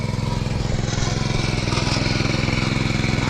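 A tractor engine ploughing a field softened by overnight rain, chugging in a close, loud, steady rhythm with no pauses.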